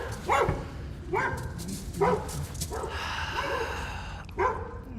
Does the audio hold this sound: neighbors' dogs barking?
yes